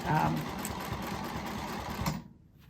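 A sewing machine stitches a scrap quilt, its needle chattering in a fast, steady run close by, then stopping abruptly near the end, while a person talks over it.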